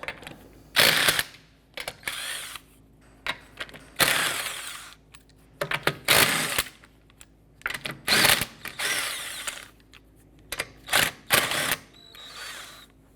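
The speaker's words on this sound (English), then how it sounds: "Using a 19mm socket, let's go ahead and remove our lug nuts." Lug nuts coming off a 2004-2008 Acura TL rear wheel with a 19mm socket, in repeated loud bursts of rapid clicking and whirring tool noise separated by short quiet gaps.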